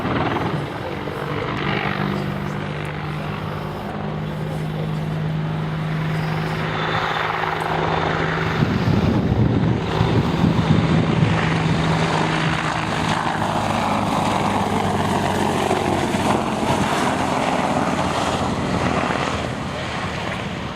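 An Apache attack helicopter flies nearby, its rotor thumping and turbine roaring steadily for a long stretch, swelling louder at the midpoint, with voices faintly audible.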